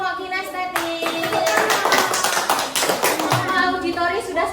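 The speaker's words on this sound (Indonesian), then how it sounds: "Tepuk tangan untuk kelompok kinestetik" Clapping for a student group in a classroom, a burst of many hands tapping that starts after a second and runs steadily to the end, mixed with children's voices and chatter.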